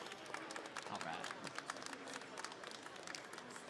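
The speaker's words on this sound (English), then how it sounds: "another big round of applause for 3rd place finisher here" Crowd applauding with brisk, dense clapping that swells and then thins out, heard from within the audience, for a third-place finisher at a Pokémon regional championship.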